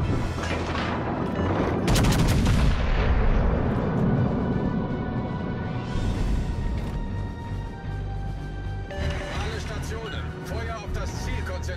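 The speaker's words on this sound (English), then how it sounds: "All stations, concentrate fire on the target." Heavy warship gun salvos from World of Warships: Legends boom loudly, with a dense opening barrage, rumbling aftermath and a fresh volley near the end, while a voice speaks over the battle.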